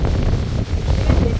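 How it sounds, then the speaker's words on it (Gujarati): Strong wind roars steadily in a village, battering the microphone with loud, unbroken rumbling that barely dips for a moment midway. "પવન એ બહુ છે આજ"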